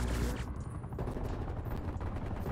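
AK74u automatic gunfire in Call of Duty Cold War, a dense, loud, continuous rattle of rapid shots that holds steady for the whole moment, blending with other battle noise.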